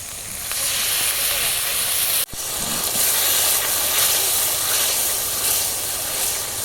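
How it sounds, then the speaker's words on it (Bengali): Water poured onto fried turmeric spice paste in a hot pan, a loud, steady steaming hiss and sizzle that holds throughout, with one brief break partway. "একটু হলুদ গুঁড়ো মশলা একটুখানি ভেজে নিয়েছি ভাজা হয়ে গেছে কষানোর জন্য জল দিচ্ছি"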